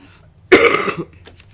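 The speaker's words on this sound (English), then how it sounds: "They're worried about your cough" A single close, harsh cough burst with a throaty rasp, followed by a couple of faint breathy sounds as it trails off.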